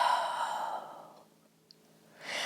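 A relaxed breath sighed out during a yoga flow. It is a close, breathy exhale that fades into near silence, and another intake of breath begins just at the end.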